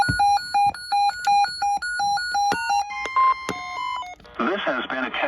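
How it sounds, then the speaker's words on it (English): A NOAA Weather Radio alarm tone test on an emergency alert broadcast: a run of sharp, evenly spaced electronic beeps, then a brief shift to other tones, ending in a burst of garbled noise. "This has been a test of the NOAA All Hazards Weather Radio Alarm System."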